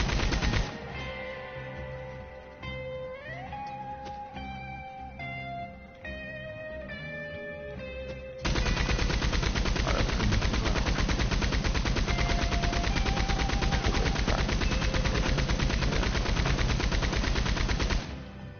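A turret machine gun in Red Dead Online fires a long, continuous rapid burst, loud and close. It starts after a stretch of quieter game sounds and runs unbroken to the end.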